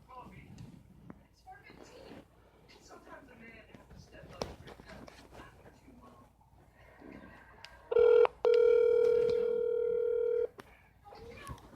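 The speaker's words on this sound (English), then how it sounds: "let me give her a call now" Telephone tones come in near the end of a live motor-racing talk show as the host calls a drag racing driver: a short tone burst, then a longer steady ringing tone, loud and clear after a stretch of talking.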